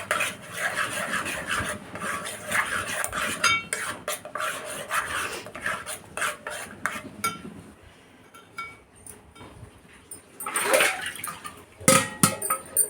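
Mango being stirred and mixed in a metal pot, with repeated scraping and clinking of a spoon against the pot in irregular bursts, fairly close, with no talk over it.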